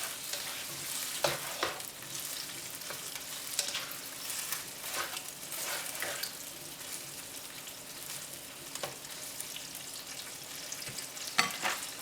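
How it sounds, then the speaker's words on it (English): Beaten eggs frying in a pan, a soft steady crackling sizzle with a few scattered louder pops and stirs throughout, no talking. "We're gonna wait a little bit until the egg cook"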